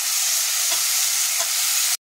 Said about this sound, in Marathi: टॅमॅटो आणि कांदा छान असा सोनेरी कलर येईपर्यंत छान असा भाजून आपण घेणार आहोत